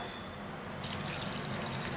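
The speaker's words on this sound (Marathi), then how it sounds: "यामध्ये आता आपण थोडंसं पाणी घालूया" Water poured onto washed tamarind and dates in a pan while making chutney for pani puri, a steady close splashing fill that grows louder and brighter partway through.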